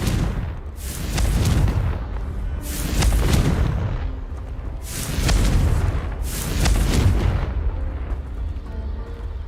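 Confringo explosion spells in the video game Hogwarts Legacy, four deep booming blasts at roughly even intervals, loud and close, each swelling and fading.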